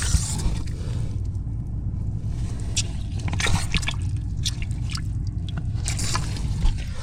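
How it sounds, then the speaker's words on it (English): Water seeping and trickling from a leaking underground pipe beside a water meter can, where copper meets old blue Qest piping, a steady low gurgling wash with scattered faint drips, close and continuous without talk. "Got a leak right here."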